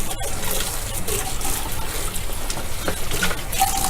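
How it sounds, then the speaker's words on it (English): Water runs steadily while hands and a sponge are rinsed during cleanup after clay work, a close continuous trickling and splashing with no talk. "One more quick rinse."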